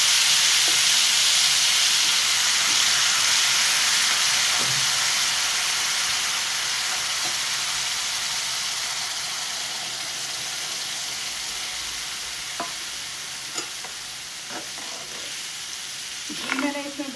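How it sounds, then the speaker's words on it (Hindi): Tomato and ginger paste fries in a small amount of ghee, giving a loud, steady sizzle that eases slightly over time, with occasional stirring clicks and scrapes near the end. "और अब इसमें हम जो टमाटो का जो पेस्ट है, टमाटो का, जिंजर का, वो इसमें ऐड कर देंगे।"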